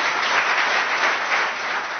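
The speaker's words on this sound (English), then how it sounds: "please give them a round of applause as I welcome them, Dr. Subramanian Swamy," Steady applause from an audience welcoming Subramanian Swamy to a talk, a dense wash of clapping holding at an even level for the whole moment without breaks.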